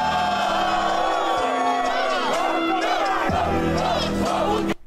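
A rap battle crowd at a freestyle final roars and whoops loudly and continuously, with a rhythmic beat running underneath and shouting voices rising and falling until an abrupt cut.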